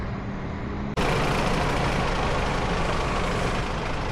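A heavy MAN truck with a trailer, set to haul massive blades at a mine, rumbles with engine noise that suddenly jumps much louder and holds a dense, steady roar close by, with no talking.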